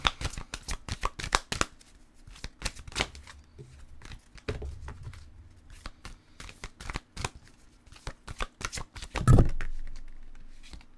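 Tarot cards riffle and slap together in repeated quick bursts, close and crisp, with brief pauses between shuffles and one louder thump near the end.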